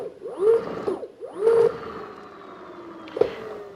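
An electric hub motor running in reverse, given a sweeping whine that rises and falls twice, then a long steady drone and a short click near the end.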